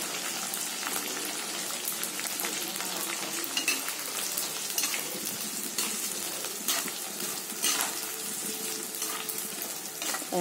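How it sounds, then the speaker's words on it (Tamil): Onion, garlic and drumstick pieces sauté in a clay pot, giving a continuous crackling sizzle with scattered pops, moderately loud and steady throughout. "வெங்காயம் பூண்டு கொஞ்சம் வதங்கிட்டு இருக்கும்போது வெட்டி வச்சுருக்க முருங்கைக்காயும் போட்டுடலாம்."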